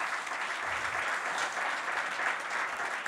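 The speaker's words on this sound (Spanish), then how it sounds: "Denle un aplauso al Señor por esto" A church congregation applauds steadily, a dense, even roar of many hands clapping at moderate distance with no speech over it.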